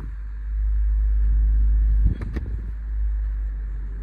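The 1.6 VVTi engine of a 2003 Toyota Corolla runs with a deep, steady rumble close by, briefly interrupted by a few clunks and shifts in tone before settling again.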